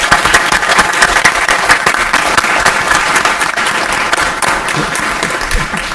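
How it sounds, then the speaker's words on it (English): Applause at a city council meeting fills the room with dense, loud, sustained clapping from a crowd, a steady wash of many hands heard close for about six seconds with no talk over it. "Big round of applause"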